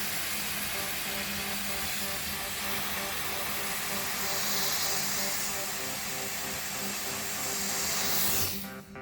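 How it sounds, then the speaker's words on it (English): A Vapor Rino 200 PSI commercial steam cleaner pushes a steady, loud hiss of steam into a rug, holding unbroken for several seconds before cutting off abruptly at the end. "I'm going to lay this over it, and I'm going to steam."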